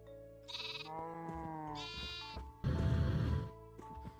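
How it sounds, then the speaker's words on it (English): Sheep bleat in the video game Minecraft, several distinct wavering calls in sequence, the last one loud and harsh, close and clear over quiet game ambience. "Oh, sheep."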